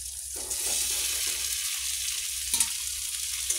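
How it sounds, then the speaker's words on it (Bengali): Potatoes dropped into hot oil in a home kitchen pan, a steady close sizzle running throughout with a few soft stirring scrapes and a brief louder clatter near the middle. "এই যে তেল ছেড়ে ছেড়ে এসছে, তো আলুটা দিয়ে দেবো"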